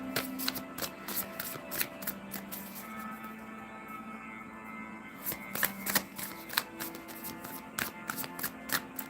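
Tarot cards being shuffled close by in quick riffling bursts, repeated several times with brief pauses, no talking.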